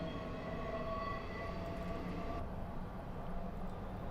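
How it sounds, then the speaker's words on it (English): A Metropolitan Line train approaches in Train Simulator 2020 on the Uxbridge to Aldgate route, a loud, continuous rail rumble with a thin tonal whine riding over it, heard alone without talk. "There's a train approaching towards us."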